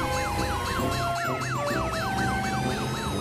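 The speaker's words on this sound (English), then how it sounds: "The sirens say, help's on the way!" A fast wailing emergency siren sweeps up and down repeatedly over a steady rumble of traffic, loud and continuous.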